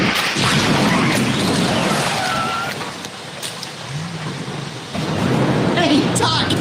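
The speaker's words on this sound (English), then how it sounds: "it's pouring rain out here" Pouring rain with rolling thunder outdoors: a loud, steady roar of broadband noise that eases slightly midway, then swells again with deep rumbles.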